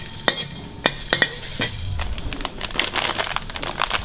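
Coriander and cumin seeds dry roast in a pan at a Thai street food cart, with sharp clinks of a utensil against the pan, then dry rustling, stirring and a faint crackle, all close by.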